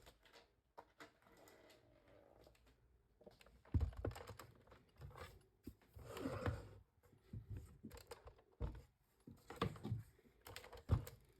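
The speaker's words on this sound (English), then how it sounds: "So we'll go ahead and die cut these." A die cutting machine presses paper through tree-shaped dies, giving quiet, uneven mechanical clicks and clattering bursts that build and fade over several seconds, close by with no talking.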